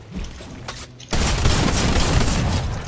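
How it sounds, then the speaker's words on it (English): A shotgun fires in a video game, a sudden loud blast at about one second that gives way to a sustained roar of gunfire and explosions, following quieter sounds and faint background noise. "Dude, I got a shotgun."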